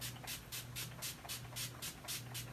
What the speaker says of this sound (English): I'm going to go in and just spray before I put my lips on.